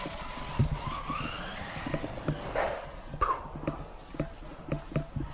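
A vintage AYK Cyclone RS 401 radio-controlled car drives over a surface with a whining electric motor, scuffing tyres and scattered clatter, the rough noise rising and falling under faint background sound.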